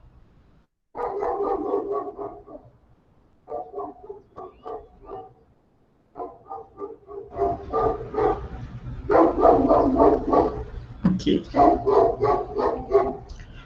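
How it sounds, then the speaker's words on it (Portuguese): A dog barks near an apartment building, repeated bursts of barking in uneven volleys, some louder and closer, mixed with a brief spoken word and low background hum. "Dá para vocês ouvirem até o cachorro"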